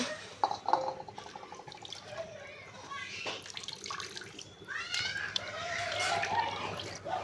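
Beef pieces, including a large bone, are rinsed in a bowl of water, with splashing, sloshing and dripping sounds close by, and brief voices and a faint rooster in the background.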